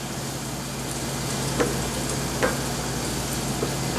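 Eggs frying in butter in a pan make a steady, close broadband sizzle throughout, with a couple of sharp crackles and pops breaking through and a low kitchen hum underneath.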